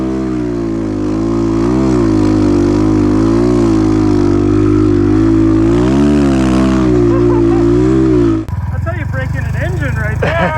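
A 250 dirt bike bought at Walmart is held wide open in second gear while the clutch is feathered, its engine a loud, close, sustained drone wavering slightly in pitch before suddenly cutting to a rougher, quieter idle.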